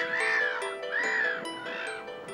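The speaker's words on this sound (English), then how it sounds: "Closer to the sea, a flock of black-headed gulls is feeding along the shoreline." Black-headed gulls call from a river shoreline near the sea, with three drawn-out, harsh cries spaced evenly and heard moderately close, no voices present.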